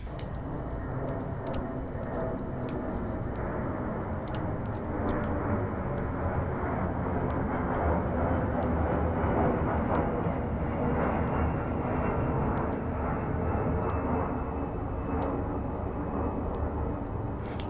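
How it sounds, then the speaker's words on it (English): A low, steady roar of a low-flying airplane passing overhead fills the whole stretch, rumbling continuously and fairly loud, with a few faint clicks on top. "The planes are flying really low again."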